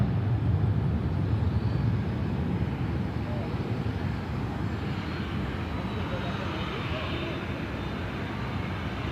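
A Singapore Airlines airliner lands at Sydney Airport in the evening, its broad engine roar rolling steadily and slowly easing, with voices talking over it.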